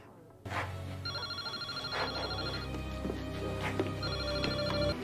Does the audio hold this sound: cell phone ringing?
yes